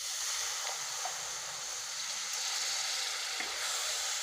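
Paneer masala curry being sautéed in a pan gives a steady, even sizzling hiss that runs unbroken throughout, close and fairly loud, with no voices.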